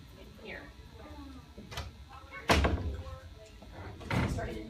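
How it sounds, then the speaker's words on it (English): Classroom doors in a first grade room are pushed shut, with a sharp thud followed later by a second knock, while a teacher and children talk around them. "I even need to shut the doors so that everyone can hear."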